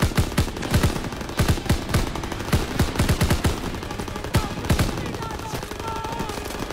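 Rapid bursts of gunfire in a World War II shooter game, repeated sharp shots in quick clusters from close by, loud and dense over several seconds.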